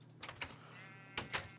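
Sheep bleat in a video game, two or three faint, short, nasal cries spread across a quiet moment with no talk.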